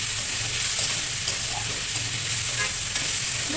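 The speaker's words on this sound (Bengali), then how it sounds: "এখন দিয়ে দিচ্ছি কাঁচামরিচ। আর একটু নাড়াচাড়া করে মিশিয়ে নেব।" Spinach with green chilies stir-fried in a pan, a steady close sizzle with faint scraping of stirring running continuously and alone throughout.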